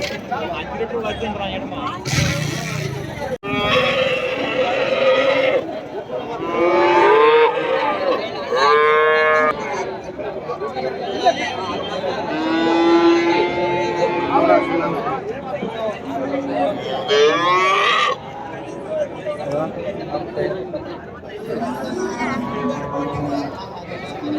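Calves and cattle moo repeatedly at a busy livestock market, several calls close by over a steady background of crowd chatter and people talking.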